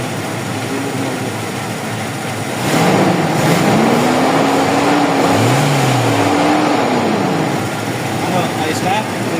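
A Toyota Revo with a 1RZ engine and an injector misfire climbs from idle into a sustained rev, then settles back, with an uneven tone and people talking over it.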